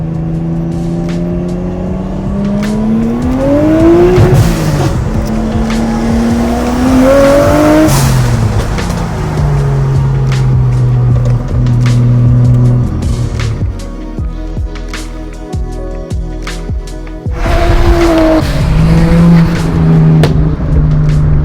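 From inside a Nissan Skyline R33 GTS-T on a JDM car cruise, the engine revs hard and loud through rising and falling gear changes, with a brief quieter lull before it pulls again.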